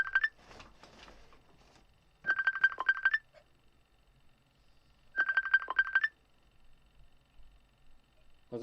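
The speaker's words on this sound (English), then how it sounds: "My phone's ringing and I can't even find it." A mobile phone rings with repeated bright electronic ringtone bursts at regular intervals against a quiet room. It sounds moderately close, and the workspace is otherwise mostly silent.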